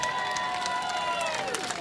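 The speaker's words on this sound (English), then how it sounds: "a round of applause for Honda and the Manufacturer's Trophy" Crowd applause at an IndyCar Music City Grand Prix celebration honoring Honda's Manufacturer's Trophy, a steady wash of clapping and cheering throughout, with a tonal drone running beneath.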